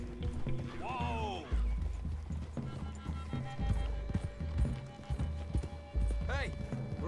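Horses gallop with loud, rapid hoofbeats in Red Dead Redemption, with a whinny near the start and another cry near the end, under intermittent talking.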